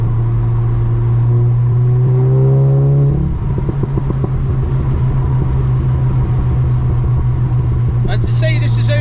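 A 400 BHP Audi with a DSG gearbox pulls hard, its engine note climbing steadily for a few seconds before a quick shift drops it into a deep, close rumble that carries on to the end.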